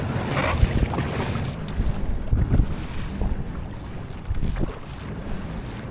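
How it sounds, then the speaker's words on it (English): Small boat riding over a big wake while heading into the wind and tide, with steady wind buffeting and water rushing against the hull and a few heavier thumps and swells, no talking. "Got our first big wake here."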